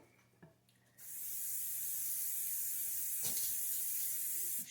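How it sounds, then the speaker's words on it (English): A steady aerosol spray hisses for several seconds, close and continuous, after a brief faint clatter, with no voices. "And I just use some cooking spray."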